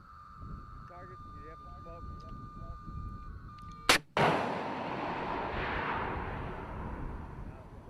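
Missiles launch in a military firing, with a sharp blast followed by a long, loud roaring rush that fills the rest of the moment, preceded by steady background tone and someone laughing.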